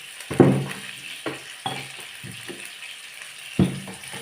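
Curry leaves and green chilies sautéing in a pan make a soft background sizzle, broken by a handful of sharp scraping knocks from stirring, close by and with no talk.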